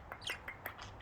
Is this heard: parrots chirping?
yes